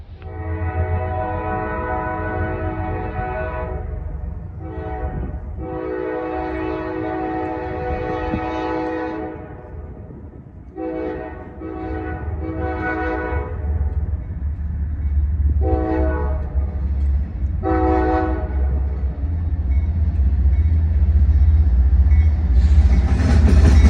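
Freight train rolling past an industrial rail spur in Cordele, Georgia, with a steady heavy rumble and a series of long, loud horn blasts repeated over the passage.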